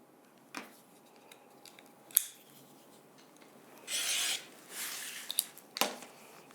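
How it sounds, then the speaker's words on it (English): Quilting fabric is cut along a patchwork ruler in a quiet room, with a few sharp snips and scrapes and then a longer rasping cut. The sounds are close and fairly soft, with pauses between them and no talking. "I would grab my ruler and cut through here"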